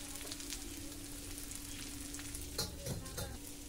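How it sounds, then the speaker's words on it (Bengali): Gobindobhog rice frying in oil in a pan as it is stirred, with turmeric going in; a steady soft sizzle runs throughout, with a few louder scraping and stirring clatters near the end. "এই যে এখানে গোবিন্দভোগ চালটা তেলের মধ্যে দিয়ে একটু নেড়ে চেড়ে নিয়েছি। এখন হলুদ দিয়ে দিচ্ছি।"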